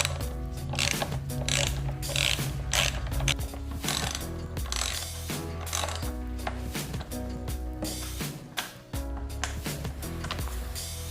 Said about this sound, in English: Once again, you're using a T25 Torx bit.